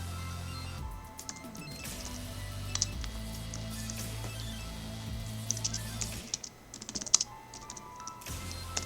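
Rapid typing on a computer keyboard at a desk during a Magic: The Gathering session, with dense, steady key clicks that run nearly throughout and a few sharper, louder strokes near the end.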